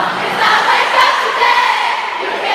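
A large crowd roars and sings together loudly, a dense wall of voices with no distinct words standing out.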